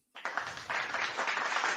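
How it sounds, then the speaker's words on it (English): A small crowd applauds at a sports network show, a steady wash of clapping hands that starts abruptly and continues evenly, fairly quiet and without talk. "I'm applauding you for that 35th birthday"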